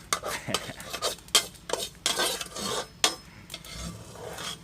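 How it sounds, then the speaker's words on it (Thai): Salt grains scrape and rasp around a metal frying pan as they are roasted, in repeated strokes, with a soft sizzle and clinks of a utensil, close up and without talking. "เอาเกลือมาคั่วในกระทะกันครับเพื่อไม่ให้ ปลาติดกระทะ"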